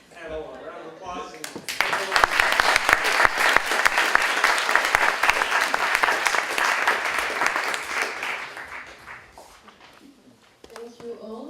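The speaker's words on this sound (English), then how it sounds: "I think we can give our panel a round of applause." A conference audience applauds a panel at the close of a plenary session on resilient cities, rising from a speaking voice into a loud sustained round of clapping that fades out before talk resumes.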